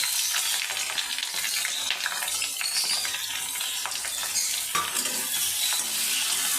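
Chilli and onion sizzle in hot oil in a wok while a spatula stirs them, a bright crackling hiss with scraping strokes throughout, close and moderately loud.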